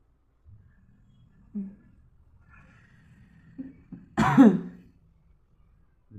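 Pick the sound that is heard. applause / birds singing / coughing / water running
coughing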